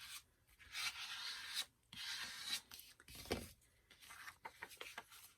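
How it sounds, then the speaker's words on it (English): Squeegee rubbing firmly over paper stuck down with glue stick in a mini journal, a series of close, dry rasping strokes with short pauses between passes. "So I'm going to get my squeegee out, ensure that all of that glue stick has good contact."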